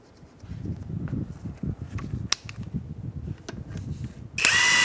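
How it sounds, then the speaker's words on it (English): Power tool snugging up wheel lug nuts on a 2007–2015 Mazda CX-9 raised in the air, heard as a loud whirring burst near the end after scattered clanks and shuffling of work around the wheel. "And then we'll put our other lug nuts back on. We're going to snug them up while we're in the air"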